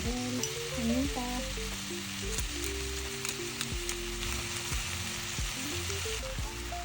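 Squid adobo with bay leaves and peppercorns sizzles in a pan while being stirred, a steady close frying crackle with light scraping and clinks of the utensil.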